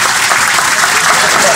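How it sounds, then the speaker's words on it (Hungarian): Esports audience applauding at a League of Legends final in Hungary, a loud, dense wash of clapping and crowd noise filling the hall without pause. "A támogató játékos Little Pony, óriási tapsot szeretnék kérni neki is."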